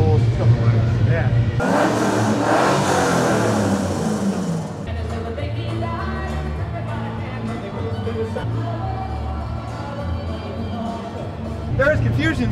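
A modified car with full-length extractors and a 2.5-foot exhaust revs hard at the Feast & Furious car show in Sydney, Australia. A loud roaring burst rises over crowd noise and is followed by lower engine rumble under nearby talk.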